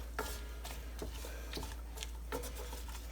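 Onion with salt is stirred in a pan, giving faint, quiet scraping strokes at a steady rhythm of about two per second.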